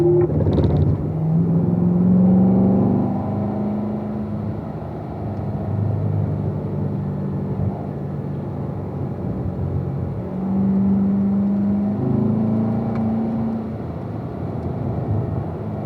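A car driven around a cone-marked track course, its engine note rising and falling through the corners as it accelerates and brakes, steady and fairly close with no talk.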